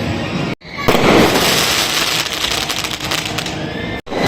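A dense, continuous crackle of firecrackers bursts loudly in the sky during the Uttarayan kite festival, the rapid pops running together for several seconds.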